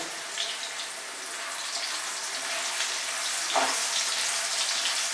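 Steady hiss and crackle of potato pieces with turmeric and salt frying in hot oil, continuous and close, with a faint clink partway through.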